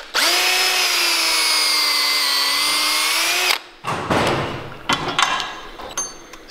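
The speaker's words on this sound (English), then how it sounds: "drill through the baseball and get your hole going" A power drill bores through a baseball, a loud steady whine held for about three and a half seconds, then stops and gives way to clattering, knocking handling noises.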